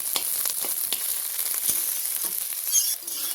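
Onion, garlic, chili and ginger sizzle hard in a hot pan while preparing a spice paste, a dense steady crackle broken by sharp scrapes and taps as the mixture is stirred, close and with no voices.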